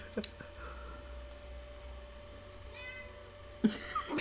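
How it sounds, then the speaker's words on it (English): A cat meows faintly in the background against a quiet room hum, a short drawn-out call near the middle, with brief clicks and noises around it. "There's a cat. I can hear the cat."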